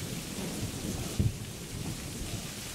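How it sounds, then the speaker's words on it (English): Thunder rumbles low and steady under a wash of falling rain, with one sharper crack of thunder partway through; the storm sounds close and continuous, with no voices. "That thunder."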